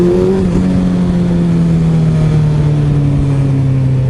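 A 2008 Suzuki Hayabusa motorcycle with a timing retard eliminator fitted idles and revs up close by. The engine note rises at first, then settles into a steady, loud drone throughout. No voices are heard.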